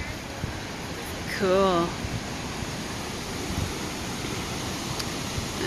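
The Havasupai canyon waterfall gives a constant broad roar in the distance beneath wind, while a person speaks briefly over it.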